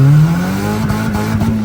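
A 1500cc race car, Suzuki FX or Swift GTi, launches from 1500 RPM, its engine note loud and close, holding a low steady drone that rises slightly as it pulls away.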